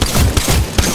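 Rapid bursts of gunfire from the video game Apex Legends, several loud sharp reports crackling in quick succession across a short stretch of combat.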